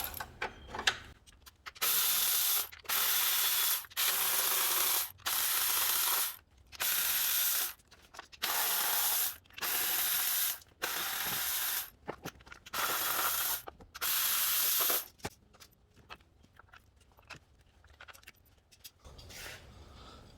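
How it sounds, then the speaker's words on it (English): Repeated bursts of ratcheting from a hand ratchet backing out the 10 mm valve cover bolts on a 2014-2021 Honda Accord 2.4L, about a dozen close, loud runs separated by short pauses, no talking. "I'm gonna go ahead and take off all those 10 millimeter bolts that we talked about"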